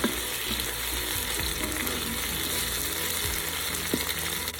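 Peeled, chopped tomatoes sauté in a Ninja Foodi for chicken curry, giving a steady, dense sizzle with faint occasional stirring clicks and no voices.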